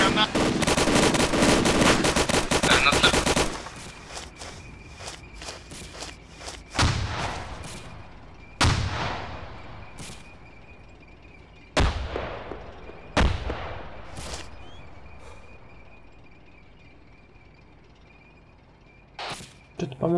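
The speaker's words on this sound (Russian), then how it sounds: "По мне стреляют, убивают меня." Gunfire in the video game ArmA 2 with the ACE mod: a dense burst of rapid automatic fire, then scattered loud single shots and booming reports with echoing tails, close and sharp against quieter gaps.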